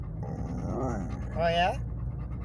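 A dog pants heavily inside a truck cab with fogged-up windows, the breathing steady and close beneath a woman's brief spoken remark.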